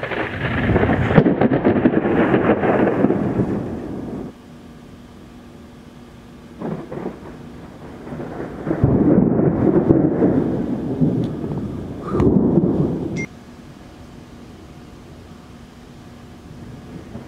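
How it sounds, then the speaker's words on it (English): Loud rolling thunder from Tropical Storm Danny over Georgia, several long booming rumbles with quieter gaps between them and a steady hiss of rain underneath. "we accidentally intercepted Tropical Storm Danny"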